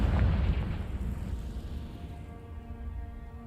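Fire-spell explosion from Confringo in the Hogwarts Legacy game, a heavy booming burst at the start that rolls off into a steady low rumble for a few seconds.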